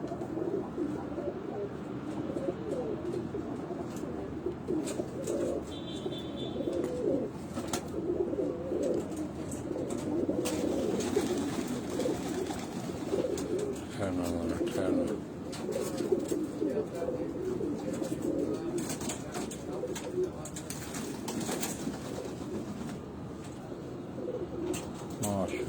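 Pigeons of the Ali wala breed coo repeatedly in a loft, soft low rolling calls recurring through the stretch amid background chatter and handling noise.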